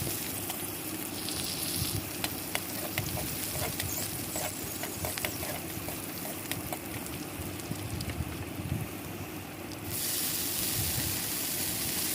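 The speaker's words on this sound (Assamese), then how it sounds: "তাৰ কাৰণে মই কেৰাহীত দিলো অকনমান পিয়াজ নহৰু কেইটুকুৰমান জলকীয়া এইখিনি দি উঠি মই ভাজি লম" Onion, garlic and green chillies frying in a wok, a continuous close sizzle and hiss with scattered crackling pops, building louder near the end.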